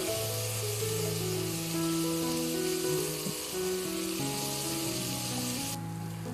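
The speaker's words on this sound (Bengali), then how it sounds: "এটাকে আমি 5 মিনিট ভালো করে ভেজে নেব" Moong dal and two dry red chillies fry in a pan for khichdi, giving a steady crackling sizzle at close range, with a few tonal clinks over it and no talk.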